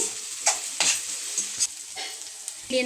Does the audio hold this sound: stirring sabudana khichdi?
yes